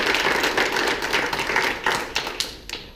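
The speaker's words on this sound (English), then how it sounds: "So let's give her a big round of applause." Audience applause at a Rotary club gathering, dense overlapping claps from a roomful of people, steady for a few seconds and then thinning and fading out toward the end.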